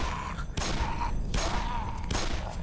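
Gunfire in the video game Black Mesa comes in loud, dense bursts of shots, separated by brief quieter gaps.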